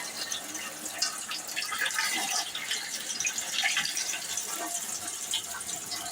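Tap water runs steadily over a kulfi mould in a home kitchen, a close, continuous splashing and gurgling stream with no voices over it.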